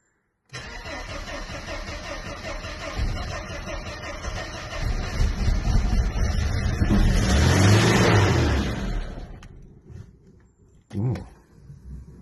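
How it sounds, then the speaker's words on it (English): A Mercedes 124 engine cranks, catches and revs up high, holding a loud roar before dropping back toward idle, with a brief blip at the end. "revving up a bit high there."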